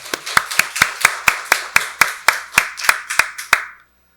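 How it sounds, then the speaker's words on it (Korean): Congregation at a Korean church Sunday service claps in unison, about fifteen evenly spaced sharp claps in a steady rhythm, loud and close, ending abruptly with no talk. "박수로 하나님께 영광 돌리겠습니다"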